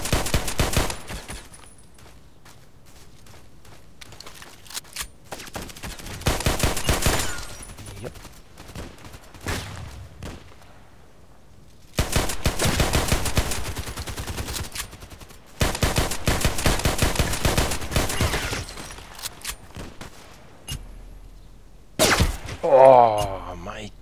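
USP pistol gunshots in a sniper video game come in sharp, dense bursts separated by quieter gaps, loud and close, with a final burst near the end.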